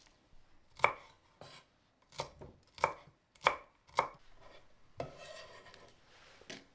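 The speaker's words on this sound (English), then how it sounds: "Chop 1 sweet or hot chili." A knife chops chili and cilantro stems on a cutting board in a run of about eight sharp, close thuds at irregular intervals, with brief rubbing scrapes between some strokes and no voices.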